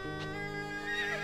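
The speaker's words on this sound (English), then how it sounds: "that's a good horse." A horse whinnies once, a sustained harmonic neigh that carries through the whole short moment, close and fairly loud with no talk over it.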